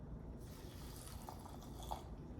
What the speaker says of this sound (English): So let's add water.